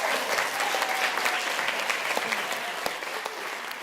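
An audience at a children's literature quiz world final breaks into sustained applause, a dense, steady wash of many hands clapping that fills the room without pause.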